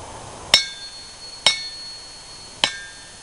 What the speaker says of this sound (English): That's just the bounce when you letting the hammer drop.